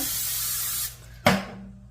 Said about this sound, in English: spray it with some olive oil spray